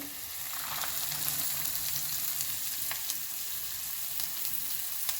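Soaked lentils and peanuts sautéing in a pan with masala, a steady close sizzle with faint stirring scrapes and occasional light taps throughout, no voices.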